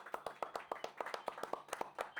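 A few people clapping in a small room, a sparse, quiet and uneven run of individual claps lasting a couple of seconds.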